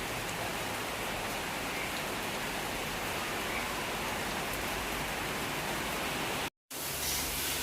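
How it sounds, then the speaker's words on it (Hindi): Steady, dense hiss of rain falling, continuous and fairly close, broken by a brief cut near the end. "देखिए बारिश"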